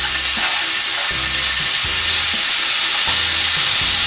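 Meat for a Filipino-style yakisoba fries in a hot, dry pan with no oil, giving a loud, constant sizzle and hiss close up, broken by repeated low thuds and scrapes of stirring.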